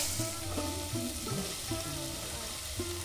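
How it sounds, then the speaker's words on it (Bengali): Prawns and onions frying in oil for a village-style fish curry, a steady soft sizzle with occasional stirring scrapes close by, no talking. "তেলে পেঁয়াজ দিয়ে চিংড়ি মাছটা দিয়েছি একটু ভাজা ভাজা কষা হয়েছে"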